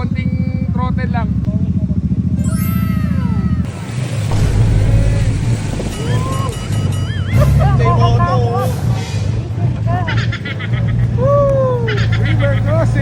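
A motorcycle rolls through a river crossing with light throttle, its engine droning and revving under excited talking and shouts from riders nearby, with splashing and engine surges rising and falling.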